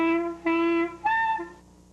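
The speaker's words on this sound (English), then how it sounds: "I can remember the first time I tried to play the clarinet, and it sounded something like this." A beginner's first attempt on the clarinet: three short, shaky honking notes, the last one squeaking higher before trailing off into quiet.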